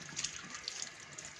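Cold tap water running steadily into a sink while red mullet are scaled under the stream, a soft continuous splashing with small scraping flickers and no talking.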